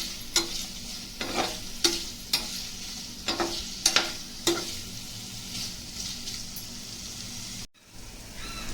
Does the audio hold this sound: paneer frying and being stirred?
yes